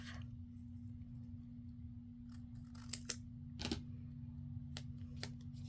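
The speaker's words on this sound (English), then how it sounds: "And I'll cut my backing off." Scissors snip off the backing during a craft project, a few quiet, sharp cutting clicks spread over a faint steady hum, with no speech.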